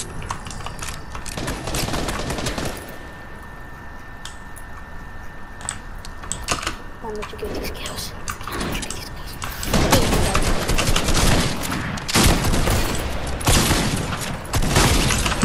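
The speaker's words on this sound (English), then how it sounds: "Oh, there's kids shooting at me." Video game gunfire crackles in rapid bursts, with loud clustered shots at the start and again in the final seconds, separated by a quieter stretch of game ambience.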